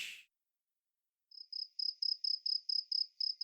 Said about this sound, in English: Can we just get a cricket sound in the editing?